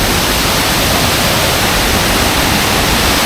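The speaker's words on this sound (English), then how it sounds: "Mai Klang Waterfall." Mai Klang Waterfall, just outside the Doi Inthanon National Park gate in Chiang Mai, roars as a steady, dense broadband rush of falling water, loud and unbroken throughout with no voices.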